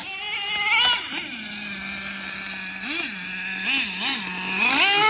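A Traxxas Revo 3.3 RC car's Picco 26 nitro engine runs alone, a loud buzzing whine that holds a steady idle, then rises and falls in several sharp revving bursts before climbing to a high rev at the end.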